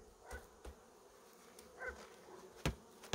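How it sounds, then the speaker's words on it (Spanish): Honeybees buzz faintly around a hive as a frame is shaken, with a few short soft thumps and brief buzzing bursts, no talking. "Vamos a sacudir esto para que las abejas"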